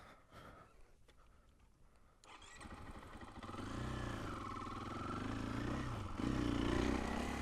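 A KTM 500 motorcycle engine starts out quiet and distant, then swells into a strong, rising drone as the bike accelerates in second gear. The pitch climbs and holds steady, and the engine grows louder toward the end.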